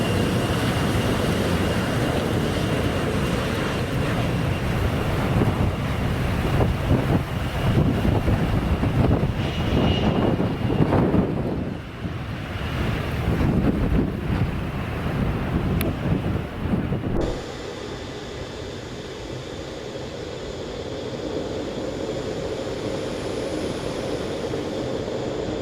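Aircraft jet blast blows across people in a loud, broadband, gusting roar with heavy wind buffeting on the microphone, then drops abruptly to a steadier, quieter rumble partway through.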